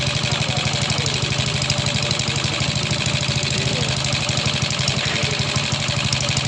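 Suzuki Shogun 125 motorcycle engine idling after adjustment, a loud, close, steady pulsing putter that holds an even rhythm throughout.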